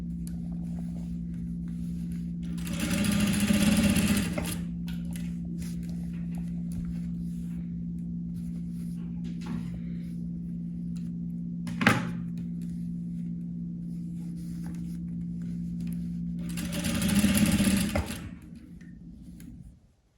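A sewing machine stitches a seam on bed linen and finishes with a backstitch. Steady mechanical hum runs throughout, with two louder bursts of fast stitching and a single sharp click in between.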